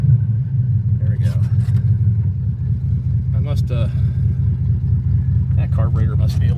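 A 1972 El Camino engine idles with a steady deep rumbling burble that dips briefly, while people talk intermittently over it.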